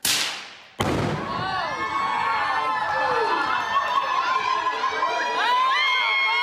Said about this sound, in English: The woman marked the end of her 14-year marriage by blowing up her wedding dress in front of her friends and family.